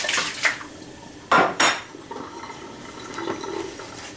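Water poured from one glass container into another, with some of it spilling over. Two sharp splashing, clinking bursts stand out close by, with quieter trickling and glassy taps before and after.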